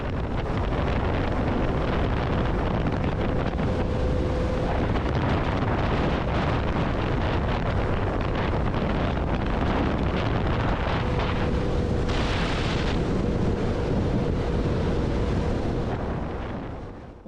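Heavy wind roars steadily over the microphone while riding a motorcycle, a loud constant rush that masks any engine sound before it cuts out abruptly at the end.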